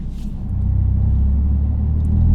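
A Toyota GR Yaris accelerates flat out in second gear, a deep, steady engine rumble heard from inside the car, rising slightly in loudness toward the end.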